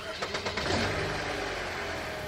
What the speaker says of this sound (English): the engine sounds like it's running a bit rich, but I suppose it's just cold